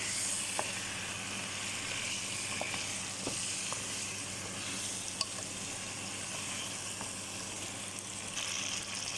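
Chicken adobo sizzles steadily in a pan while being stirred, a constant crackling hiss with a few soft clicks of the spoon, close and moderately loud, with no talking.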